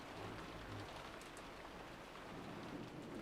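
Steady, even rain hissing in the night setting of the visual-novel game Umineko: When They Cry, a constant soft wash of drops with no variation.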